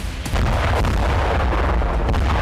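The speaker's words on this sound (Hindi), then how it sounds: "यहां पर रूसी सेना ने कुछ इस तरह से धमाके किए।" Russian strikes on the Kryvyi Rih airbase in Ukraine produce loud, continuous explosive rumbling with deep low booms rolling through the whole stretch, alone without voices.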